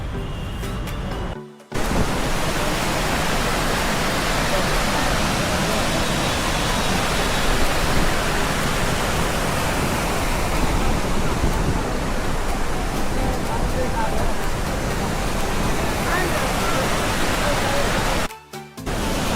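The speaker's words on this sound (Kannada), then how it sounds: "ಚಿಕ್ಕ ಫಾಲ್ಸ್ ಇದು, ಯಾವುದೋ ಹೆಸರು ಗೊತ್ತಿಲ್ಲ" Small waterfall in Chikkamagaluru during the monsoon, a loud continuous broadband rush of falling water heard close and steady throughout, with brief cuts near the start and end.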